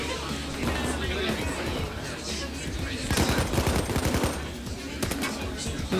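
Rapid gunfire during an assault wave in PAYDAY 2, with dense automatic bursts and overlapping shots, loudest in the middle, over a busy game background while a person talks.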